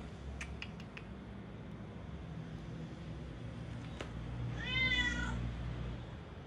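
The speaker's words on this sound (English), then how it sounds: "we got the cats and we got the dogs." A cat gives a clear drawn-out meow near the end, preceded by a few faint short clicks and creaks over low background rumble, with no talking.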